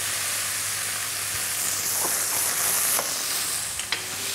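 Chicken pieces fry in a pan with a constant, loud, close sizzle and crackle, broken by a few sharp pops and a brief stirring scrape near the end.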